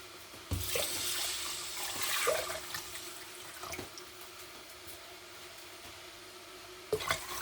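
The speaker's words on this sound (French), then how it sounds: "Je vais rajouter de l'eau." Tap water runs and splashes into a cooking pot for rice porridge, a steady broadband pour from about half a second to seven seconds with a few brief knocks, ending in a short sharp splash.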